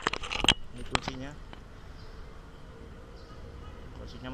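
Original keys of a 1976 Honda CB200 twin motorcycle jangle in a few quick metallic clinks near the start, then fade into quiet background ambience.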